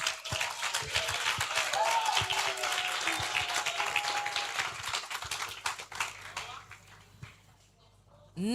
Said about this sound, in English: Please give a round of applause to Komla